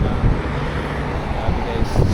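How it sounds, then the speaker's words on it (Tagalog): Strong wind buffeting the microphone outdoors on a cold, wet day in Taiwan, a steady broadband rush with gusts swelling near the start and end. "lumakas yung hangin."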